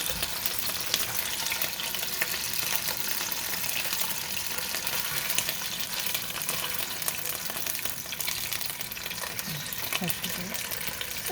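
Beef braciole browning in a frying pan for Italian Sunday gravy, a dense, steady sizzle and spatter running throughout at close range, with no clear talk over it.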